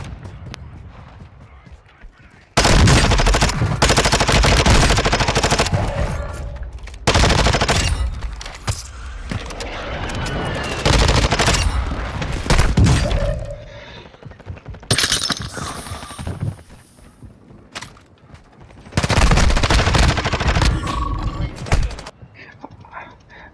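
Gunshots in a shooter video game, loud sustained bursts of automatic fire with crackling impacts and glass-like shattering, broken by short quieter gaps.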